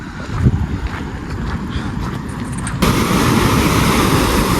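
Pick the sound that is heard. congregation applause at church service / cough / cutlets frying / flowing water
flowing water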